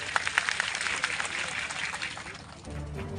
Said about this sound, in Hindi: और एक बार आप खुद के लिए तालियां बजा दीजिए